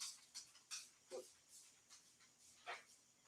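A dog pants softly in quick breathy bursts, with a couple of short high whimpers breaking through, faint and close with no voices.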